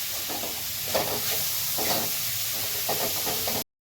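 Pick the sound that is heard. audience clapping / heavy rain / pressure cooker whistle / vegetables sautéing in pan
vegetables sautéing in pan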